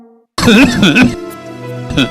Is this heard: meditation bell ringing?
no